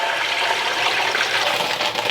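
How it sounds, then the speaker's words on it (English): Water pours steadily into a cooking pot to cover browned chicken pieces for chicken and dumplings, a continuous rushing splash lasting about two seconds, close and alone. "I'm going to cover it with water."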